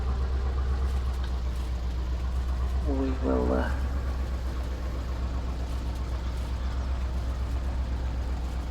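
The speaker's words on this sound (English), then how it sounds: "I love this tractor." A tractor engine in Farming Simulator 22, on a 1950s-era farm, runs with a steady low rumble throughout while a person talks briefly over it.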